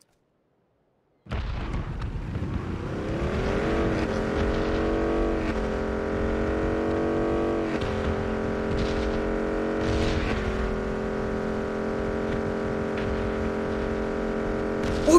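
Motorcycle engine in the PUBG video game, a loud, steady droning hum that starts after a second of silence and holds with shifting pitch, with a few thuds and bursts mixed in.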